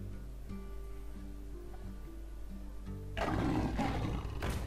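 A lion card in the video game Hearthstone lets out a loud, full roar that bursts in near the end after a stretch of quiet background music with soft tones.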